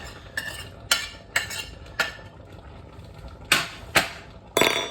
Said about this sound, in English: I'm going to mix all these spices in, get it all nicely mixed in.